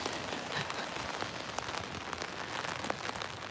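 Steady rain falling outdoors during a protest gathering near a church, a dense continuous patter with scattered sharper drops, fairly close and even throughout, with no one speaking.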